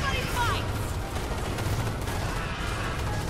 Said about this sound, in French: En position et ouvrez le feu